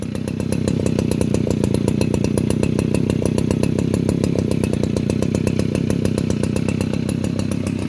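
A new Shibaura brush cutter engine held at high revs, a loud, steady, close two-stroke buzz with a rapid even pulse that continues unbroken for the whole stretch.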